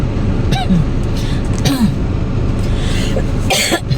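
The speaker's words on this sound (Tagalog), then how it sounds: "Ubo ko sa lamig." A few short coughs and throat-clearing bursts from a cold rise over a steady rumble of traffic or engine noise at a drive-thru on a rainy, stormy day, spaced a second or so apart.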